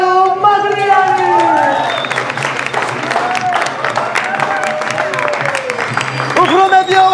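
An audience at the Mister Business King 2017 award ceremony applauds and cheers the winner. The clapping is dense and loud, with whoops, and voices carry over the crowd.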